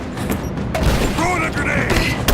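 Gunfire from a firefight in Rise of the Tomb Raider: a dense, steady rumble of shots and mechanical clatter under a shouting voice, with no single clear report standing out.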